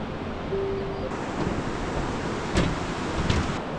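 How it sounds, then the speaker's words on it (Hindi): A fast-flowing glacial river, the Pindar, rushes beneath a bridge in the Himalayan mountains, producing a loud, continuous broadband roar with a few brief gusty surges and no speech. "भाई साहब पानी का वेग इतना तेज़ है ना, आवाज़ें आ रही है पानी की बहुत तेज़"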